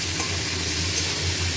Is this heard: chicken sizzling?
yes